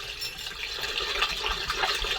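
Antifreeze pours into the cooling system of an old Soviet MAZ crane truck, a steady close liquid gurgle and splash running unbroken throughout with no speech over it.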